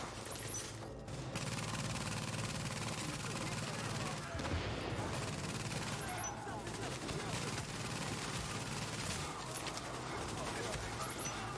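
Gunfire in Tom Clancy's The Division during a co-op firefight, with dense overlapping shots and rattling bursts running under near-constant speech throughout.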